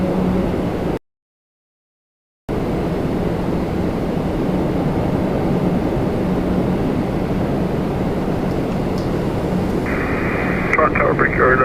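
An airliner takes off at Toronto Pearson airport with a loud, sustained broadband jet roar. Crackly radio voices from air traffic control run over it, and a brief dropout cuts the sound near the start.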